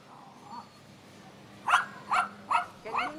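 A half-wolf, half-dog animal barks four times in a quick, fairly even series near the end, moderately close, after a quieter stretch of faint sounds.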